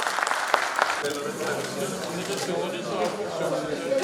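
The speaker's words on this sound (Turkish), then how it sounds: "bir alkışlar" Applause from participants at a triathlon event ceremony in Mersin, with sharp early claps giving way to a wash of crowd noise and chatter, and voices talking under it.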